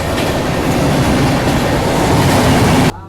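A train runs on a railway track on the New Delhi–Jammu Duronto express route, giving a loud, steady close rumble with clattering wheels that cuts off abruptly near the end, with no voices.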